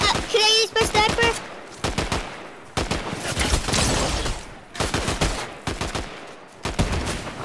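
Loud, close gunfire in a Fortnite match, with quick bursts and single shots scattered unevenly, mixed with an excited voice at the start and clattery game sounds between volleys.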